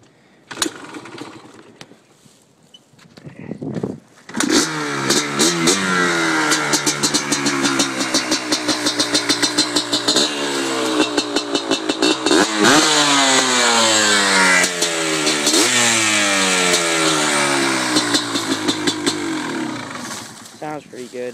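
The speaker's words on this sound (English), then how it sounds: "Nice little bike to play around on. I'll start it up for you guys." A Yamaha Blaster 200 motorcycle with an FMF exhaust fires up after a few seconds of near quiet, then revs repeatedly with loud, close, rising and falling bursts over a rough idle.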